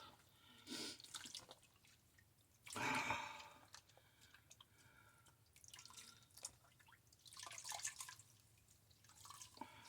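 Water drips and trickles from a cold wash rag as it is wrung out, a brief splashy burst standing out among scattered soft drips and faint splashes, fairly quiet and close.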